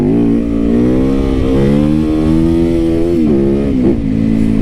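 A super lightweight, torquey motorcycle engine revs loud and close, its buzzing note rising and falling in a few throttle blips with a short brap near the end, with no voices.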